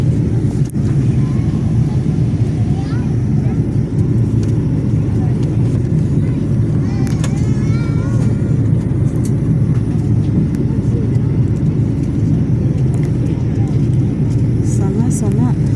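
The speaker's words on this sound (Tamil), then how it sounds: "ஃப்ளைட் லேண்ட் ஆக போகுது." Steady, loud, low airplane cabin rumble fills the whole stretch as the flight comes in to land, with faint voices murmuring underneath.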